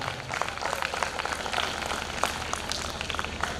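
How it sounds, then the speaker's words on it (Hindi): Loud, dense applause from the audience at a school annual function for Suprabhat Children's Academy, a steady wash of many clapping hands sustained throughout. "मैं चाहूँगा कि आप सभी लोग एक बार सुप्रभात चिल्ड्रंस एकेडमी के लिए ज़ोरदार तालियाँ बजा दें।"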